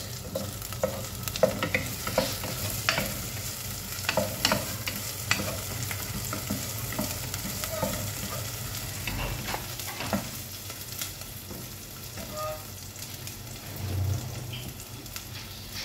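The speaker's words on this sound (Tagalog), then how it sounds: "Ginisa na natin ang sibuyas sa bawang" Onion and garlic sizzle in a pan for a beef and broccoli dish, with steady frying hiss and frequent close scraping and stirring strokes throughout, no voices.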